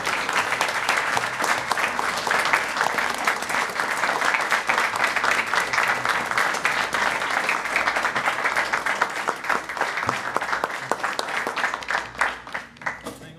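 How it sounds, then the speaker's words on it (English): Sustained applause from an audience at a county council meeting, a thick, even clapping that continues for over ten seconds before thinning out into a few scattered claps at the end. "Would everybody give an applause?"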